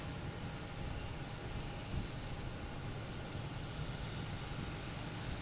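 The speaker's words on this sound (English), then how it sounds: "next to arrive is a JetBlue, a A321 coming in from Orlando" JetBlue Airbus A321 arriving at Boston Logan from Orlando: a soft, even, distant jet rumble with broadband hiss, steady throughout with no talk.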